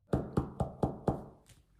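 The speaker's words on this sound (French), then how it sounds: "Il frappe à la porte." Knuckles knocking on a door: five evenly spaced, sharp raps, then a softer sixth, close and clear with no voices over them.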